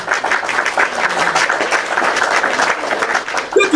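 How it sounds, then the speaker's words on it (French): A crowd claps loudly and continuously at a rally on election day in Côte d'Ivoire, a thick sustained roar of many hands close by, ending with a brief bump at the end. "On applaudit pour ça, je vous aime."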